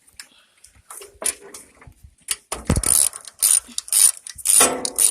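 A power impact gun removing a bolt from a tractor starter rattles in several short, hammering bursts. The bursts grow louder and more frequent toward the end, with small clinks between them.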